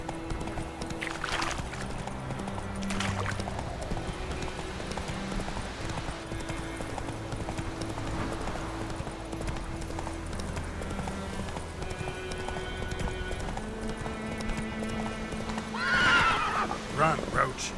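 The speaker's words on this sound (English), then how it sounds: "Run, Roach" Horse hooves clip-clopping in a steady rhythm with an occasional neigh in The Witcher 3, under game music and ambience, with a brighter whinny near the end.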